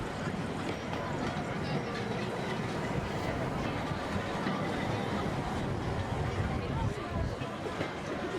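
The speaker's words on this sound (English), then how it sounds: "we're going to take our first ride on the scenic railway" A scenic railway ride inside Dreamland, Margate, recreated in the Planet Coaster game: steady rolling train and wagon rumble with a continuous rattling clatter, fairly loud throughout, with a faint crowd-like babble underneath.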